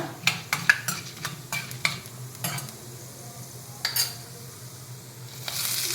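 Something frying in a pan while tempering for mini bun dosas, with a steady close sizzle broken by repeated sharp scraping stirs, and a louder hiss rising at the end.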